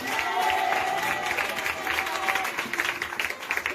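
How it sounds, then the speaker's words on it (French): A church congregation applauds and cheers in worship, a dense, sustained wash of clapping and voices, with shouting crowd noise running continuously throughout. "Acclame Jésus pour cela."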